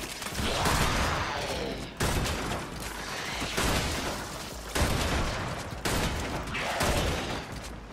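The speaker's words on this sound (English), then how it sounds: "Swear my bullets are going right through him." Rapid automatic gunfire in the video game Warframe, sustained bursts at close range broken by short pauses every second or two, loud and steady throughout with no talking.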